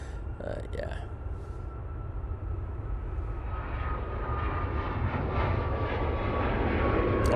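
A TUI airliner at Manchester Airport gives off a low, steady engine rumble at a distance that slowly grows louder, with brief voices near the start.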